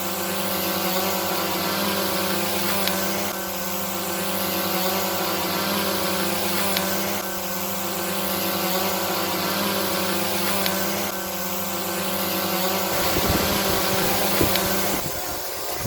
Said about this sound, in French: nous avons là les deux drones qui sont en vol stationnaire